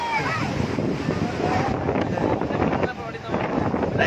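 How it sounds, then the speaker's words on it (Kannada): Strong wind buffets the microphone in rough, roaring gusts at a dam near KRS, with rushing water beneath and voices partly buried in the noise. "ಗಾಳಿ ಹೊಡಿತಿರೋದು"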